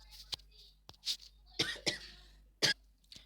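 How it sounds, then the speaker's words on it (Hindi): A few sharp, breathy coughs in quick succession, close and fairly quiet, with short pauses between them. "वो गलती से खांसी आ गई थी"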